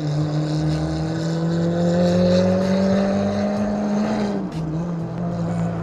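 The engine of a 1989 Toyota Corolla AE92 runs roughly and struggles, a steady loud drone with a brief stumble and dip near the end.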